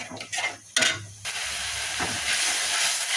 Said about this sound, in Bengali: মশলা পানি ফুটে উঠেছে